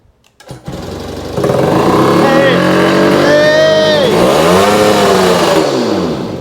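An old, previously seized engine fires up after fuel is added, catching after a few coughs and then revving hard and loud with rising and falling pitch sweeps; someone shouts briefly as it comes alive.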